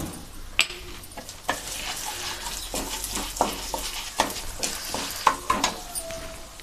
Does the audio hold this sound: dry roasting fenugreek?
yes